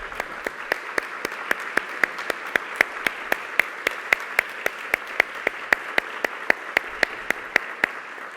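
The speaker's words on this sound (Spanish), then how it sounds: "un aplauso, por favor" Steady applause from an audience at the close of an academic panel discussion on the anti-gender movement in higher education, with claps coming sharp and regular throughout at a moderate distance and no voices over them.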